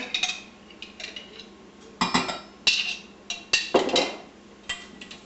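A spoon clinks and scrapes repeatedly against a mixing bowl while raspberry jam is stirred into a cupcake filling mixture: close, bright metallic taps in an uneven rhythm over a low steady hum, with no voices.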